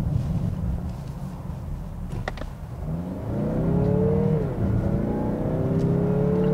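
A 2018 Mazda CX-9 GT engine accelerates with its six-speed automatic shifting, the engine note rising steadily through gears heard from inside the cabin, with brief clicks early and a dip at each upshift.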